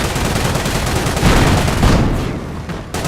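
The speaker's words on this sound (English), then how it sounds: "The Panzer is able to fire more quickly." Rapid Panzer tank cannon fire from the World War II strategy game Company of Heroes, a dense, loud barrage of overlapping blasts and rumbling booms sustained for a few seconds with no voices.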